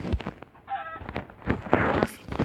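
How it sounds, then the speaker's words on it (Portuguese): A chicken on a small isolated sea island gives a few short clucks and squawks at close range, mixed with rustling and handling noises. "Oi, galinha."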